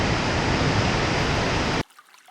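A nine-metre cascade in New Zealand pours with a loud, dense, steady roar of falling water that cuts off abruptly into near silence.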